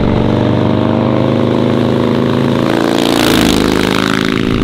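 Chopper motorcycle with an S&S 107 engine running, a loud, close rumbling idle that revs up partway through before settling again.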